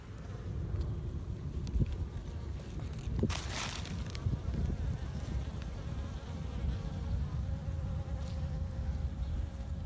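Honeybees buzz steadily around a hive, a dense droning hum close to the microphone with a little wind noise.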